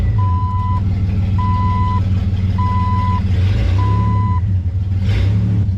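A Jeep XJ engine idles with low oil pressure, a steady low rumble close by while a reversing alarm beeps four times at an even pace over it, with no talking.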